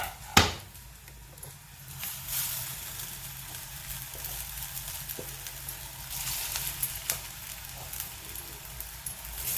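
Gram-flour vadis fry in a pan with a steady crackling sizzle of oil, opening with a sharp clatter and then a continuous close hiss marked by small pops and occasional stirring scrapes.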